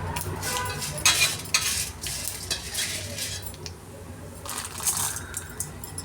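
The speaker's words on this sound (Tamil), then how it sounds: "கடுகு பொரிஞ்ச உடனே கடலைப்பருப்பு உளுத்தம்பருப்பு" Chana dal and urad dal tumble into a pan of popped mustard seeds, giving scattered dry clatter and light stirring scrapes with a soft background crackle, with no voices.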